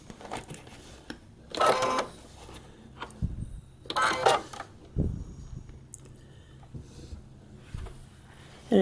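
A sewing machine stitches a paper-pieced quilt block at a short stitch length, running in two short bursts of rapid whirring with pauses and small handling clicks between them, up close.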